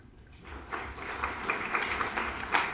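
Applause from a conference audience honoring judges and officials, a moderate crowd clapping steadily and building slightly in density, with a few sharper claps near the end.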